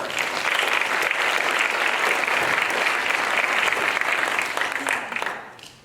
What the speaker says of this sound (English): let's go ahead and give them a round of applause also